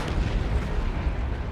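A Vanquisher cannon on a Leman Russ tank in Dawn of War 2 fires a heavy, booming blast that rumbles low and dense throughout, loud and continuous with no speech over it.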